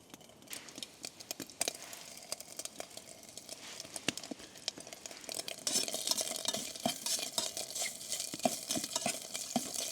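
Small pieces of fat sizzle and crackle in a hot cup, with irregular pops and a faint scraping stir, growing busier toward the end.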